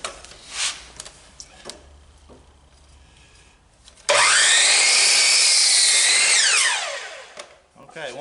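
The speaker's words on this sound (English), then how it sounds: "I'm going to use a cut-off saw for this" A cut-off saw slices through a 2x4 length of lumber, a sudden loud, close whine that holds steady for about three seconds and then winds down, following quieter workshop knocks and shuffling.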